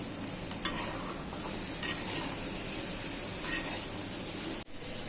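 Sweet pumpkin with turmeric powder fries lightly in a pan, giving a soft, even sizzle with a few scattered spoon clinks and scrapes, quiet and close, ending in a brief cut.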